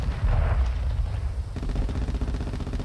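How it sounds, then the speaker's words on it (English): Cruise missile strike in Call of Duty: Modern Warfare II, a deep, heavy rumbling blast that rolls on, then gives way to a low, steady pulsing mechanical drone with no talking. "Friendly cruise missile deployed."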